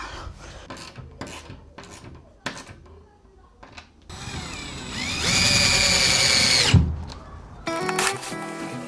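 Scraping and rasping strokes lead into a loud power drill whining as it bores into wood braces of a log cabin, stopping briefly before revving again close by.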